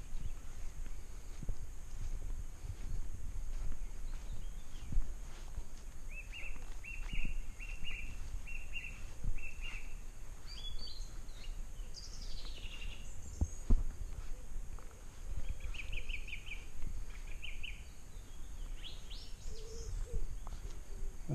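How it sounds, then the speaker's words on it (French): Pigeons and other birds call outdoors in an orchard in short repeated chirping phrases, fairly distant, over a quiet rustling background with occasional soft footsteps. "Vous entendez les pigeons, les oiseaux, les pigeons."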